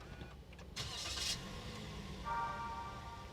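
A 1500 cc Toyota Avanza engine cranks with a keyless push-button start, a short high starter whir followed by the engine catching and settling into a smooth, steady idle close by.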